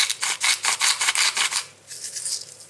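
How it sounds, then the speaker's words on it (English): Black pepper and salt are ground into a dish with a rhythmic series of gritty, rasping grinder twists, about eight quick strokes close by, followed by a softer scratchy burst. "A little bit of black pepper going in. And some salt."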